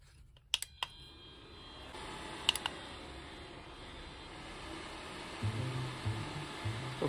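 A 600W ceramic electric fan heater running off solar power blows with a steady, broad whoosh that rises after a few clicks near the start, close by, with a low hum entering toward the end.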